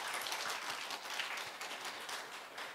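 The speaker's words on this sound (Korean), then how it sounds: "따뜻한 감사의 박수 드리도록 하겠습니다" Warm applause from a congregation at a middle-school Sunday church service: a brief, steady patter of many hands clapping, soft and somewhat distant, with no voices.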